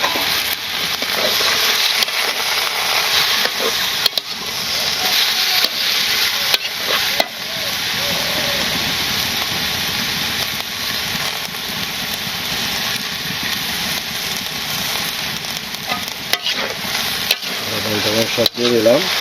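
Spice paste and vegetables sizzle and fry in a pan for a prawn and Malabar spinach dish, a steady close crackle broken by scraping stirs and occasional knocks of the spoon.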